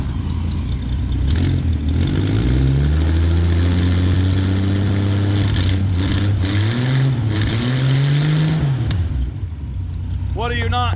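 Ford Fairmont car engine, unused for 35 years, turns over and runs with a loud rumbling idle, revving up and settling down, with a voice speaking briefly at the end.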